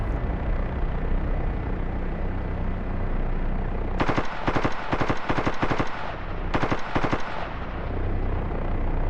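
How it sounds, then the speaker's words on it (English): A soldier fires an M4 rifle at a burning generator on the ground in the DCS flight sim, near Kiowa helicopter operations. The rifle loosens several rapid bursts of sharp, loud shots in two clusters over a steady engine drone, with no speech. "I'm just blasting at it with the M4 here just to make sure"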